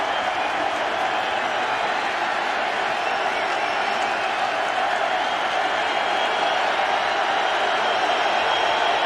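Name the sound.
football stadium crowd noise rising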